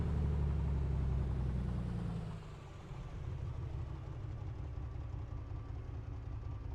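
A light aircraft engine idles smoothly in a flight simulator on the ground before a runway run-up, a steady low rumble that eases down briefly and then settles back to an even drone.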